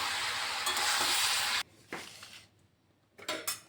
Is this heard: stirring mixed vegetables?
yes